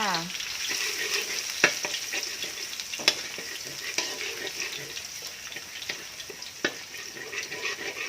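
Steady hot-oil sizzle of garlic frying in a pan, with crackling pops and a few sharp utensil clinks against the pan, no talking.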